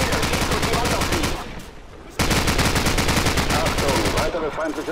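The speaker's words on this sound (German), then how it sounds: "Ach, da ist ein Maschinengewehr." Rapid, loud bursts of machine gun fire in Call of Duty 4, sustained rattling volleys that pause briefly before resuming, with a voice speaking underneath.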